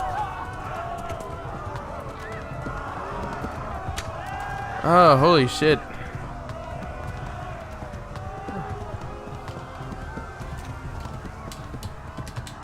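Horse galloping in the video game Kingdom Come: Deliverance, with steady running hoofbeats under game ambience while a man lets out a brief startled exclamation midway.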